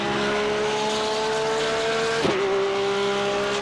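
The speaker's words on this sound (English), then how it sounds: "Great noise, that Porsche there." Porsche race car engine in iRacing, a loud, steady high-pitched drone under braking, with a brief dip and rev change partway through before it settles back to a constant scream.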